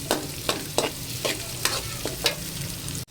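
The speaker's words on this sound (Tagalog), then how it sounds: "Isa lang natin kaunti hanggang sa lumambot yung ating sibuyas, hanggang sa lumabas yung kanyang aroma." Onions sautéing in a pan, with a brief stirring scrape every half second or so over a low, steady sizzle, close and moderately loud with no talk.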